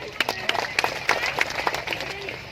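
Slow, sparse clapping from a crowd at an outdoor political birthday event, with claps landing at a steady, unhurried pace amid background murmur and a voice.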